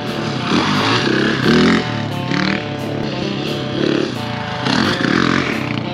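Husqvarna adventure motorcycle being ridden, its engine droning loud and close with repeated rises and dips in revs and some rattling scrapes, no voices over it.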